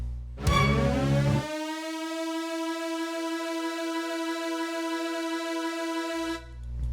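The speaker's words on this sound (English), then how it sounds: "we threw together a marcato string and something called Ascent" Orchestral marcato string stab with a rising transition effect: a short, punchy low string hit, then a long sustained bright harmonic tone that holds steadily for several seconds before a second low swell at the end.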